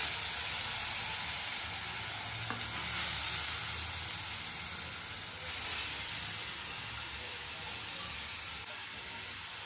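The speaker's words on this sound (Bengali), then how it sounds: "দেখো ঘিটা গরম হয়ে গেছে। গরম হয়ে গেছে, আমি গাজরটার মধ্যে দিয়ে দেবো সবটা।" Carrots sizzling in hot ghee, a steady, dense frying hiss that holds evenly close up for the whole stretch, with a few faint clicks beneath it and no voices.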